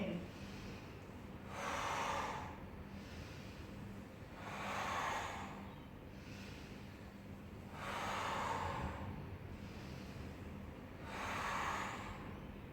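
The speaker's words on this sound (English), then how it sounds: "you inhale through the middle, the neutral stage here, and exhaling when you're squeezing" Deep, slow breaths in and out during a spine exercise, four broad airy exhalations spaced about three seconds apart, close and fairly soft against a quiet background hum.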